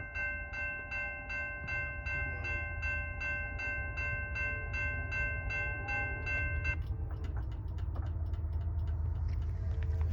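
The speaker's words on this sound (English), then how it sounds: "We have a train coming, roll it." An eastbound Norfolk Southern manifest freight train rolls past at an Ohio highway crossing. A low continuous rumble runs throughout, a pulsing bell-like tone rings at first, then sharp wheel clatter takes over.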